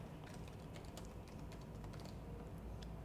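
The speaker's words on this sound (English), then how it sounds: "So I'll just type some name," A name being typed on a computer keyboard, with quick, soft key clicks in an uneven patter, faint beneath a steady background hiss and without any voices.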